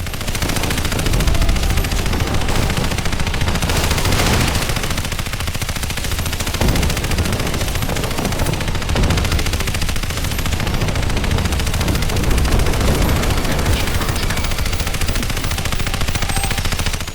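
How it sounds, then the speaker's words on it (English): Sustained automatic gunfire in the shooter game Crysis Remastered, a dense, unbroken roar of rapid shots and explosions filling the whole stretch at high volume, with no voices over it. "Who's firing?"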